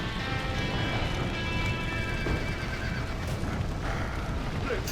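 Horses whinny and neigh in Red Dead Redemption over a rain-like wash and scattered hoof clops, the calls rising and falling close by.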